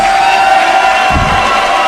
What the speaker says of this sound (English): This crowd tonight fucking rocks the house.